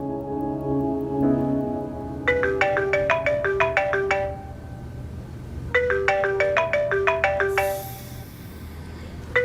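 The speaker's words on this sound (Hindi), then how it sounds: "गीती, मजर का फोन आ रहा है।" Phone ringtone for an incoming call, a bright repeating electronic melody in two loud bursts separated by a short pause, close and clear, with low background tones.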